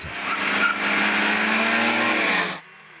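A BMW 2002 TII rally car, competing in the Coupe des Sources, drives past at close range with a loud sustained engine roar and long tire squeal for about two and a half seconds before cutting off abruptly.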